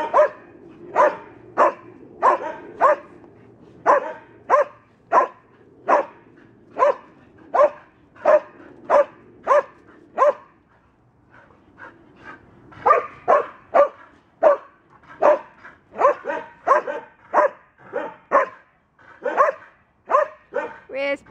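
Gracie and a puppy bark in repeated sharp bursts, close and loud, with a short pause midway before the barking picks up again in quicker, overlapping yaps.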